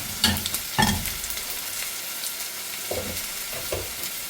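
Mustard seeds spluttering in very hot oil in a pan, a continuous close sizzle broken by several sharp popping bursts, with no voices.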